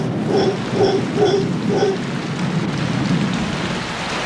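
Steady, heavy rain drenches a tropical forest after a long dry season, a dense continuous hiss with low rumbles of thunder rolling beneath it.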